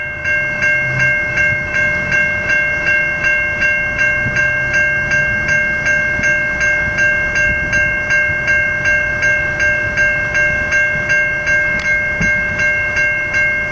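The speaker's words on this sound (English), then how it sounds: "Not sure where the train's coming from. There it is." A train passes the Manchester Road level crossing in Mooroolbark, Victoria, with the crossing's warning bells clanging in a steady, loud, rapid rhythm throughout and a low rumble of rail traffic underneath.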